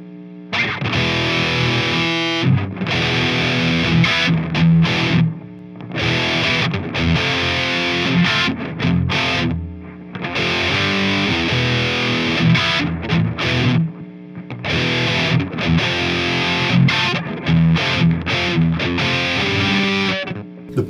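A 1989 Charvel Model 4 electric guitar on its bridge pickup, heavily distorted, chugs through loud, continuous riffs broken by several short gaps, with no voices over it.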